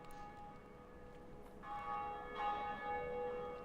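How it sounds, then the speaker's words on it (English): A bell ringing in the Dark Souls video game, faint at first, then clear resonant metallic tolls with long ringing overtones layered over each other, alone without any voices. "anyone else who's playing here right now can actually hear this bell ringing"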